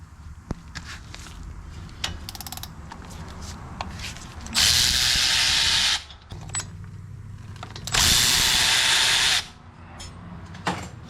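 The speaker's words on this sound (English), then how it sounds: "Let me get this caliper out of here first. Two 15mm bolts." Two 15mm brake caliper bolts removed on a 2021 Ford Ranger 4x4, with two loud sustained bursts of a power tool whirring amid scattered clicks and handling noises nearby.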